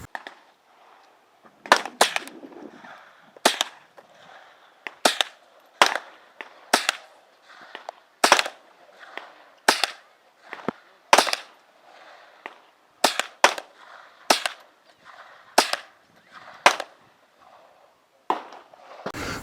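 Firearms used to teach a child to shoot fire a long series of sharp reports, roughly two dozen cracks at irregular intervals, some in quick pairs, moderately loud and without talk.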